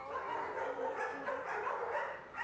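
Several dogs bark, yip and whimper together in an animal shelter in Chicago, a dense, continuous, fairly close chorus with no talking.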